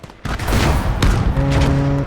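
Anti-tank gun fire in the Gates of Hell war game, loud sharp blasts near 0.3 and 1.0 seconds amid continuous battlefield rumble, with a low tonal drone toward the end.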